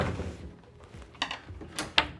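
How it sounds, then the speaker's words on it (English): Cabinet door hardware on a REVEGO pocket door system clicks and knocks as the door is opened and set into a locked position, a few short sharp taps over quiet room tone. "I have to open the door and put it into a locked position."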